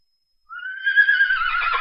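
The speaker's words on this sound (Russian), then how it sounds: "Это лошадка." A horse whinnies in a single drawn-out neigh that starts after a brief silence and holds steady to the end, loud and close, with no talk over it.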